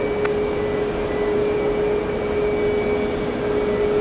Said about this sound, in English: Two 747s arriving back to back